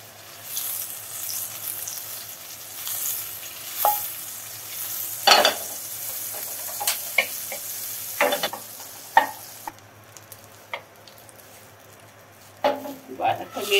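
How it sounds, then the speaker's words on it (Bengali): Butter melting in a pot on a stove for a pasta white sauce: a soft, steady sizzle close by, punctuated by occasional sharp clinks and stirring scrapes. "বাটারটা দিয়ে দিলাম চুলার হাঁড়িতে"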